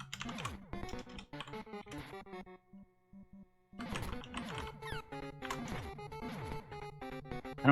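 Computer keyboard typing, quick clattering keystrokes in bursts mixed with chiptune-style game music, broken by a short near-silent gap before the clatter resumes.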